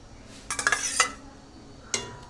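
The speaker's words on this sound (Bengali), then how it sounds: "ঢাকা দেবো এবার একটু।" A lid set onto a cooking pot of tilapia and giant taro curry gives a few close metallic clanks, the first cluster clattering quickly before a single sharp clink follows a moment later, with no talking.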